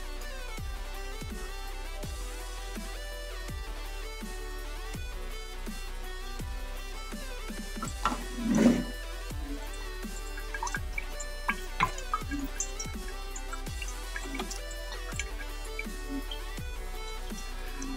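A homemade liqueur mixture drips through a tea filter in a quick, steady rhythm of small, close drops, with soft tonal sounds faintly behind.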